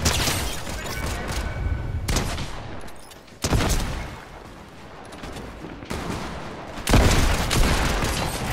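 A Cybertron cannon fires in the Fortnite video game, giving a string of loud blasts and dense booming bursts with gunfire texture over several seconds.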